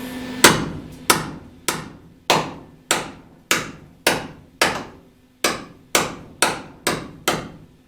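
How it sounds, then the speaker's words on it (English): Loud, sharp hammer blows on a bowed, heated metal part of a race truck, about a dozen evenly spaced strikes with ringing decay, one brief pause partway through. "Now he's going to hammer the other side of it over here because it's bowed up."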